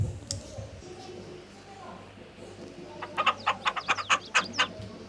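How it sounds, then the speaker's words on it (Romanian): Hens and a rooster cluck in a quick run of sharp calls near the end, after a quieter start with low background noise. "Avem vreo 6 găini și un cocoș."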